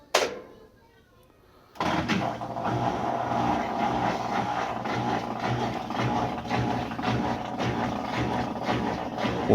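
A Kenmore washing machine pump runs with a steady, droning whir that starts abruptly after a short quiet moment and continues at an even level.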